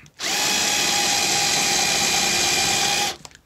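Power drill driving a countersink bit into wood for a gaming table build, one steady high whine running about three seconds at constant speed, close and loud, then winding down with a few small knocks.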